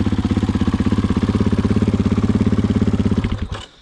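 A 2022 KTM 500 motorcycle engine that had taken in water runs with a fast, even thumping idle, close and loud, then cuts out abruptly near the end.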